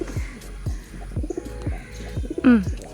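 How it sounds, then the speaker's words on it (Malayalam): Pigeons near their nest coo in a steady repeating rhythm of soft low calls about every half second, close by, ending with a louder rising call. "ഞങ്ങൾ പ്രാവും കണ്ടോ പ്രാവും കൊച്ചുങ്ങൾ"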